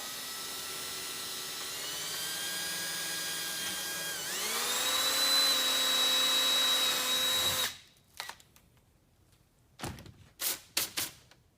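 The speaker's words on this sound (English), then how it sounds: "just drill a hole" A power drill whines steadily, its pitch dropping as the bit bites into a metal cable barrel, then stops, followed by a few sharp clanks and taps.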